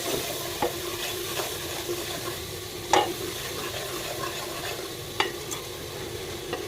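Onion and spices roasting in a pan for a bottle gourd and milk curry, with a soft steady sizzle and a few sharp scrapes of a stirring spoon, heard alone without talk.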